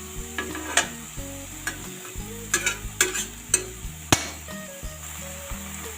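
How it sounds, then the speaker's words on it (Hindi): Masala being stirred and fried in a pan for a raw papaya curry, with a steady sizzle under a run of scraping and clinking spoon strokes against the pan. "अच्छे से इस मसाले को भून लेते हैं।"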